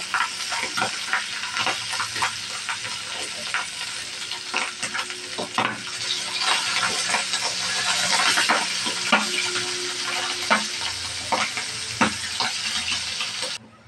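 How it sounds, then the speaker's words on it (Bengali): Pabda fish pieces fry in oil in a pan, crackling and sizzling steadily with frequent sharp spits and occasional scraping as pieces are turned, close and lively for the whole stretch, without any voices. "আমার মাছটা এক পিস ভাজা হয়ে গেছে, এখন আমি মাছটা উল্টিয়ে নিব।"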